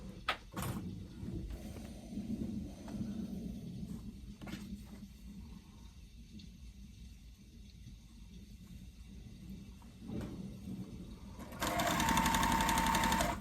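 A sewing machine runs steadily, stitching quilt pieces together in an indoor sewing session, its motor whirring continuously with a few short pauses and a louder, faster burst near the end.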